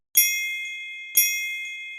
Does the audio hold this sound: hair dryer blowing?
no